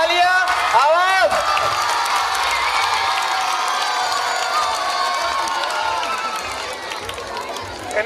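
Audience at a school annual day celebration clapping and cheering in a dense, steady wash of crowd noise, with a whoop near the start and the sound holding loud throughout.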